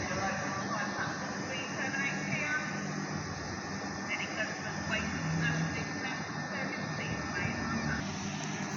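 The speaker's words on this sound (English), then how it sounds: "departing now is 375 827 on the 1431 South Eastern service starting here to London Charing Cross" A Southeastern Class 375 electric train pulls out of Hastings station, a steady mechanical rumble and whine running underneath a voice that talks over most of the departure.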